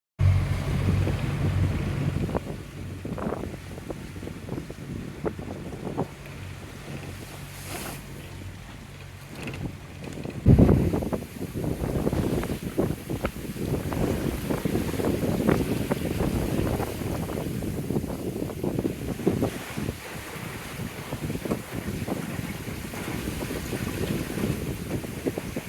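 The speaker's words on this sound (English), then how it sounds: "Downwind sailing, so it hasn't been too rocky" A sailboat runs downwind offshore on a solo passage from Charleston toward Palm Beach, with a continuous rush of wind and water against the hull, a few thumps and knocks, and a louder gust partway through.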